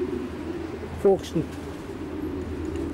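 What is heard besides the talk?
racing pigeon hen cooing in loft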